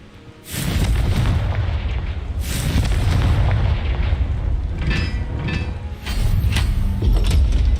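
A Confringo blast curse in the game Hogwarts Legacy lets off a heavy booming explosion, followed by a sustained loud rumbling roar and a second surge near the end.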